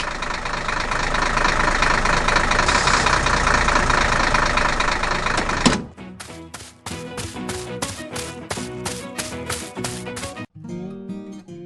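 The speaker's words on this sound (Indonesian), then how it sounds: "Traktor sedang bekerja keras di hutan." A heavy tractor engine rumbles steadily and loudly for several seconds, then cuts to quieter, irregular tapping and mechanical knocks.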